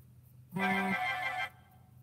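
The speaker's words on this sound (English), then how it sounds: "because I just keep getting phone calls" A mobile phone rings loudly with an incoming call for about a second, a bright melodic ringtone of layered tones that starts and stops abruptly against a quiet room.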